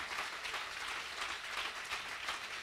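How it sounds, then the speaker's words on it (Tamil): Church congregation clapping hands during worship at a New Year meeting, a dense, steady wash of many hands applauding together, fairly loud and continuous with no talk over it. "கையை வலிக்க கைத்தட்டி ஆராதிக்கணும்"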